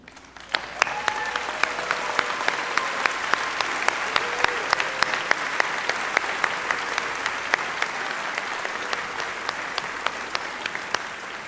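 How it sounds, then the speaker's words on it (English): A large graduation audience at Silver Creek High School in Sellersburg, Indiana applauds its faculty and staff, steady dense clapping filling the hall for over ten seconds with a few sharper claps standing out and faint voices beneath. "join me in a round of applause for all of these staff members"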